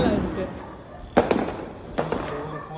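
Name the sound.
Diwali firecracker exploding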